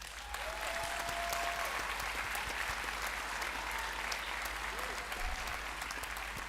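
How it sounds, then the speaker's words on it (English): Steady applause from a large commencement audience at the 2025 CT State Middlesex graduation, a continuous dense roar of clapping heard at a moderate distance with a low hum beneath. "Give her a round of applause."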